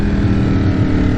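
A 2021 Ducati Streetfighter V4S motorcycle fitted with an Akrapovic exhaust gives a short burst of loud, close, deep engine rumble that holds steady throughout.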